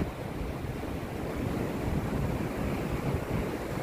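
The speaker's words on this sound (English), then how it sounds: "What an impressive tidal surge." Tidal surge waves wash into the St Lucia Estuary as a steady, dense roar of surf and rushing water, mixed with wind buffeting the microphone.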